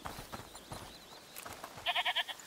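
A goat in A Plague Tale: Requiem gives a short, wavering, pulsed bleat near the end, after quieter footsteps and ambient rustling in the game.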